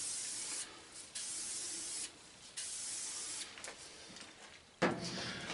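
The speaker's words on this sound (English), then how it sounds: "I got the penetrating oil, or WD-40. I'm just going to spray it on there real good." An aerosol can of penetrating oil sprays onto the guide rails of an old laser machine in several bursts of hissing, with short pauses between them and a louder final spray close by.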